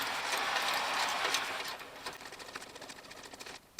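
Socket ratchet tightening a nut while fitting lowered springs on a Triumph Spitfire: steady close rapid clicking through most of the clip, loosening into separate ticks before a final click.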